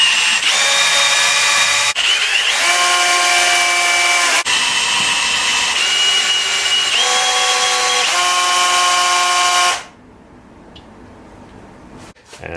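A power drill whines steadily for about ten seconds while spinning an engine oil pump, its pitch shifting slightly under load, then cuts off, leaving quiet room noise.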